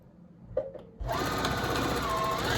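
Sewing machine with a quarter-inch foot stitching rainbow patchwork fabric: a few soft clicks, then the motor kicks in at once and runs in a steady, close, even whirr.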